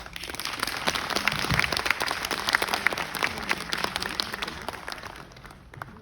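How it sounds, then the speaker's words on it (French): An audience applauds for itself at a French poetry and lyric-writing show, with dense, steady clapping over about six seconds that fades slightly near the end. "Allez-y, applaudissez pour vous-même."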